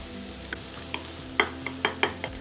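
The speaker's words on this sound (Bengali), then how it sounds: "আলতো হাতে নাড়িয়ে মিশিয়ে নিন সবটুকু।" Egg kebabs gently stirred through a sizzling pan, a soft steady fry under a handful of light utensil scrapes and clinks spaced about half a second apart, close and quiet.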